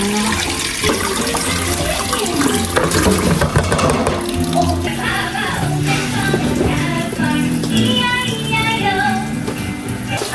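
Taro roots washed under running water, a steady loud gush and splash from a tap with clattering handling noises throughout, no talk.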